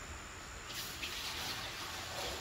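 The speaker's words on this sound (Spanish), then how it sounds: "Abrime ahí el chorrito, Riz." Water runs steadily from a tap into a pot while pots are prepared for boiling at a large cooking event, a continuous close hiss and gush without pause and no voices.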